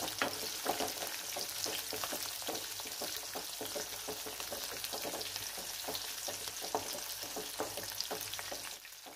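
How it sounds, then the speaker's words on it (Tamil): Small onions and a sprig of curry leaves sauté in hot oil for garlic kulambu, giving a dense, steady crackling sizzle with scattered pops and stirring scrapes throughout, close and unbroken, with no voices. "இதில் 1 கொத்து கருவேப்பிலை, சின்ன வெங்காயம் போட்டு இந்த ஆயிலை நல்லா வதக்கி விட்டுக்கலாம்"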